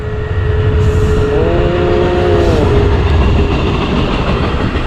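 A train rumbles past at close range, loud and steady, with a rising-and-falling squeal of wheels or a horn partway through.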